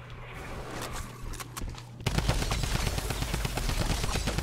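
Rapid automatic gunfire from a drum gun in Fortnite's horde rush mode, a dense, loud burst of fast shots that starts abruptly partway through and continues steadily to the end.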